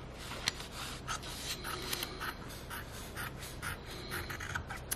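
Scissors cutting around paper pattern pieces laid on stacked fabric for burp cloths, a steady rasping, scraping snip-and-slide texture heard up close with no talking.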